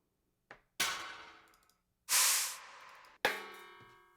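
Sharp metallic clicks and clangs from an industrial sound library, four separate hits spaced about a second apart, each ringing and fading, with one hissy burst among them, heard alone without talk.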